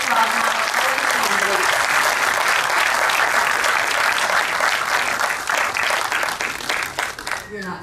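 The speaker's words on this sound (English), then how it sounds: "you can give a big round of applause now." An audience at a chamber of commerce candidate forum breaks into a loud, sustained round of applause, steady dense clapping that tapers off near the end.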